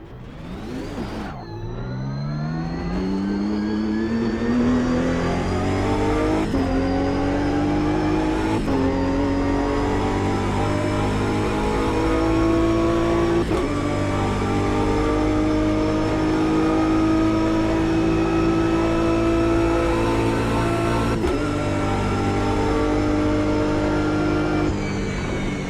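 A race car engine in the sim racing game Automobilista 2 drones loudly and continuously, rising in pitch through each gear with sharp drops at upshifts and steady high revs between them.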